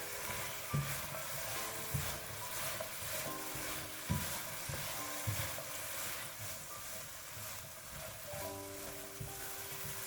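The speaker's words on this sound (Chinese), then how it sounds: "快速的翻炒均匀，使红薯丁都裹上一层糖醋汁。" Diced sweet potato being stir-fried in a wok with sweet and sour sauce, a continuous sizzle broken by repeated scraping and tossing strokes of the spatula.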